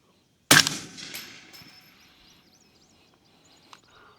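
A single sharp, loud report from a .450 Bushmaster rifle fired outdoors at long range, followed by a ringing decay and faint echo, then near silence.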